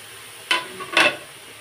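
Radish greens being sautéed with spices in a pan give two quick stirring scrapes with a brief sizzle, set against a quiet background.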